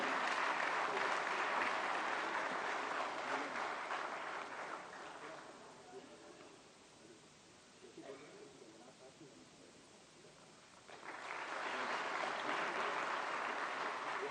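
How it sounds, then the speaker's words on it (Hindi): Sustained applause fills a hall as Minister Anurag Singh Thakur is honoured with a shawl and memento at a Vigyan Bhawan ceremony. The clapping swells, eases in the middle, then surges loud again, with a voice speaking over it. "जोरदार तालियां, अभिनंदन, वंदन"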